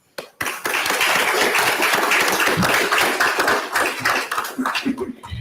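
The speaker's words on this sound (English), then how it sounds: "They deserve a round of applause." Steady applause from a crowd at a budget hearing fills the space, dense clapping that starts abruptly and carries on loudly throughout.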